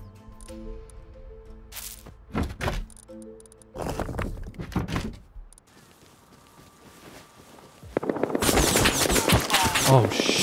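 AK rifle fire in the game Rust arrives as bursts of rapid shots, loud and sharp, with rumbling explosive noise and heavy continuous firing toward the end, while people talk over it.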